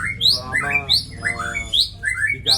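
A competition murai (white-rumped magpie-robin) songbird sings alone, close and clear, in bright rapid chirps, whistled phrases and harsh squawks that repeat in quick bursts.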